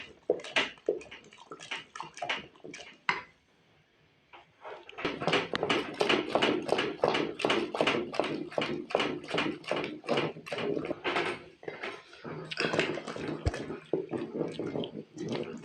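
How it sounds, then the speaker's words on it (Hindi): Milk is poured into a pot of cooking carrot and rice kheer, making a close, loud, rhythmic gurgling and sloshing that starts after a few quiet seconds and continues for about ten seconds. "अभी डालेंगे दूध।"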